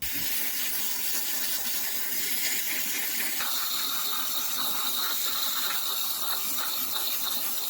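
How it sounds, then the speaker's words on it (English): Carb cleaner sprayed into the carburetor of a 1965 AMC Rambler American 330, a steady close hiss with faint mechanical clicks throughout, no talking. "Now I just gotta run some carb cleaner in it, and hopefully that'll be it."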